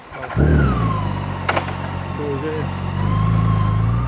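A nearby motorcycle engine idles and revs in a steady low drone, with a rising whine and brief voices over it.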